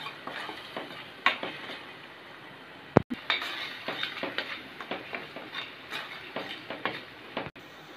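Onion and ginger-garlic paste being sautéed in a pan for a Tamil kaadai (quail) gravy: steady soft sizzle with a spoon stirring and scraping, a few sharp clinks of metal on the pan, no talking.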